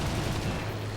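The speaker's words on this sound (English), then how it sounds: "put a 20mm cannon round straight through the cockpit" Ki-61 firing its 20mm cannons in War Thunder, a dense continuous roar of rapid gunfire over the aircraft engine drone.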